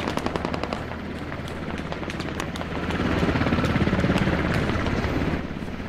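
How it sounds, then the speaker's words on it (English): Rapid bursts of machine-gun fire with scattered single shots ring out in a Squad combat battle, dense and continuous, swelling louder midway through the clip amid a busy battlefield din. "Lots of fire from the southeast."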